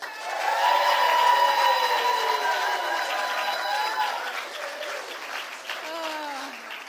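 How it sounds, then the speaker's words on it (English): Audience at a Lyme disease awareness event clapping and cheering steadily for the next speaker, dense sustained applause with whoops and shouts rising early and slowly tapering off. "So please yell, scream, cheer, throw your children in the air."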